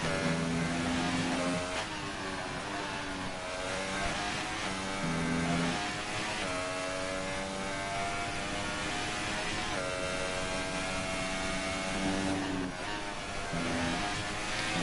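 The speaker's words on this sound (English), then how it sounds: "You can see really revving every single gear all the way to the max." A race car engine in a sim racing game at the Austrian GP, revving hard through each gear to the limit, with repeated rising pitch sweeps and sharp upshifts, loud and continuous with no talk.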